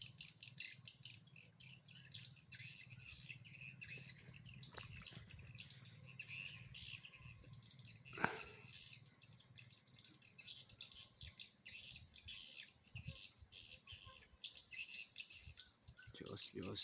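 Birds drawn to a lamp chirp continuously at a distance, with thin high tweets layered over a faint insect-like drone and an occasional quiet thump, while someone speaks softly.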